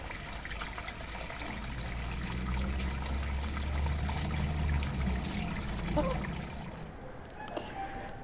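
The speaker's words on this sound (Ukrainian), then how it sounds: "Вода вже побігла через верх." Water overflowing and spilling over the top of a container in a garden, a continuous trickling and splashing that swells slightly midway, running steadily without a break.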